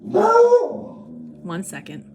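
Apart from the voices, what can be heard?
pug beagle lab mix dog barking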